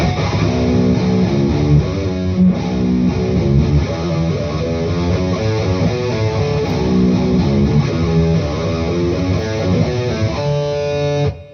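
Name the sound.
electric guitar riff played slowly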